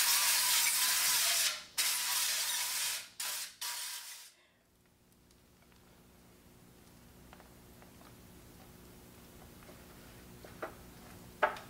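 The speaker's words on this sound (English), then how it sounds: "And now I'm gonna spray my pan." Several sharp hissing bursts of nonstick cooking spray onto a pan, the last one longer, followed by quiet room tone with a few soft clicks.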